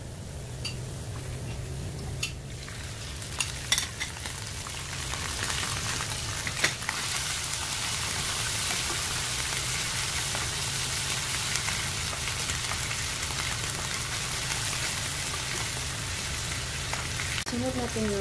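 Tuna frying in a pan gives a steady, loud sizzle throughout, broken by a few scattered clatters of utensil against pan near the start.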